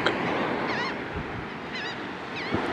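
Bird calling outdoors at sunrise, with three short honking calls at intervals against a steady wash of wind or surf, moderately distant and partly masked by the background noise.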